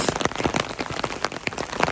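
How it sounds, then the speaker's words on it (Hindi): Rain falling onto a surface nearby, dense irregular patter of drops with sharper splashes scattered throughout, steady and moderately loud. "कल का पता नहीं बारिश होगी कि नहीं होगी, लेकिन फ़िलहाल तो हो रही है।"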